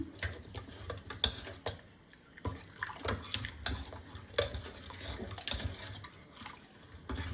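Batter mixed with two glasses of water is stirred smooth in a bowl, giving close, irregular clicking and scraping taps with a soft wet swish, no voices.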